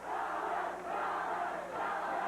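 A live pro wrestling crowd in Memphis roars and chants steadily, a dense wash of many voices swelling in waves with no commentary heard over it.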